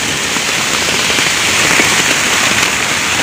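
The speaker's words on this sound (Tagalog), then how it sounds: "Ang lakas po ng ulan." Heavy rain pouring steadily onto a surface outdoors, a dense continuous hiss of loud, close downpour with no pauses.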